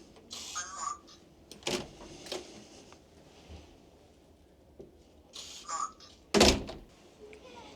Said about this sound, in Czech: Kování smartky jde otevřít pomocí čipu chráněného proti kopírování.